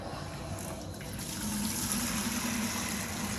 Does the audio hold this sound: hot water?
yes